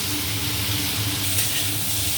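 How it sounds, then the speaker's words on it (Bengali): Onions, green chillies and potatoes fry for a fish curry, a dense close sizzle of hot oil over a low kitchen hum. "এবার এটাকে আস্তে আস্তে একটুখানি ভাজতে হবে, ভেজে নিচ্ছে আস্তে আস্তে।"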